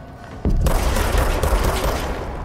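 Gunfire in the video game Control, a sudden loud burst of dense, crackling shots that begins abruptly and keeps going as sustained rapid fire.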